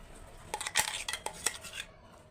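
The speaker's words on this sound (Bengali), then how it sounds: "এবারে এরপর নেড়ে নেব এভাবে করে।" Amla paste being stirred in a pan (kadai), heard as a short run of metallic scrapes and clinks from the spoon against the pan, fairly close and fading out at the end.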